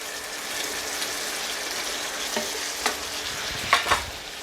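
Chicken stir-frying in a pan with mushrooms and sauce for Thai cashew chicken, a steady close sizzle with a few sharp scraping stirs near the end, no talking.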